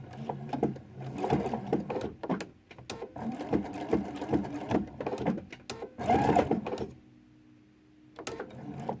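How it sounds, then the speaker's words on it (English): A sewing machine stitches binding onto a quilt, running in close bursts of rapid stitching with short stops, then a longer quiet pause before it starts up again. "Stitch down to the pin. Pivot. And sew to the corner."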